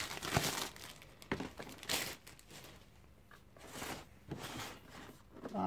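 Plastic blister packaging around a WD Elements 4TB external hard drive crinkles and crackles in close, bursty handling noises with several louder crunches, no speech.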